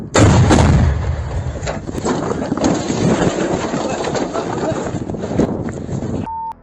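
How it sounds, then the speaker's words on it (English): A Russian soldier fires a handheld rocket launcher toward a Ukrainian position in a combat zone, giving a loud, close blast followed by several seconds of sustained roaring rumble that cuts off abruptly. "A Russian soldier first launched a rocket from a handheld launcher toward a Ukrainian position"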